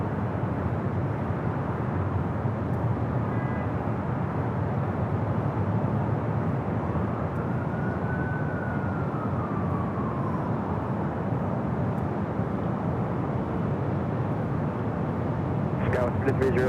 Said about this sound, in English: Near the Asiana A380 Super on the downwind leg. Heading our way here for a north side